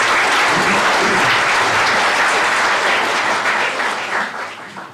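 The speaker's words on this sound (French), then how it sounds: "Olivia Martins et Barbara Job, que vous pouvez applaudir puisqu'elles sont là" Audience applause fills the room at a mayor's New Year reception in Verlinghem, dense and steady clapping from a crowd that tapers off toward the end.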